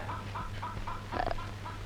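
Chicken clucks in a short rhythmic series of mid-pitched calls, fairly close, over a steady low background hum with no speech.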